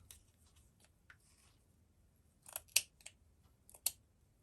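Scissors snip through sisal nest for card making, giving a handful of sharp, close cuts. Quiet at first, then a cluster of louder snips near the end, with no voices.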